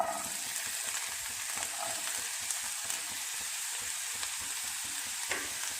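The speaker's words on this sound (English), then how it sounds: "Now I'm going to add some onion," Onion frying in about a tablespoon of oil for Gobi Manchurian gravy, a continuous close sizzle with soft scraping stir sounds and small pops, no talking.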